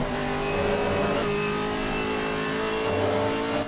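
A Ginetta GT4 race car in a racing video game drones with a steady, loud engine note throughout, the pitch holding fairly constant as it runs at speed.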